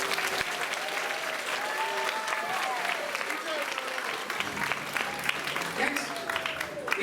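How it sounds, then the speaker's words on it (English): Audience applause at a middle school winter music showcase, moderately distant and steady, with instrument tones and murmuring voices mixed underneath. "Let's give her a round of applause"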